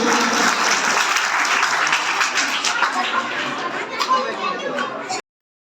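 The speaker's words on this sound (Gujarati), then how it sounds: "જોરદાર તાળી સાથે આપણે સ્વાગત કરીએ." Loud applause from an audience welcoming a guest at a school foundation-day felicitation ceremony, a dense burst of clapping that fades slightly before cutting off abruptly, with faint chatter underneath.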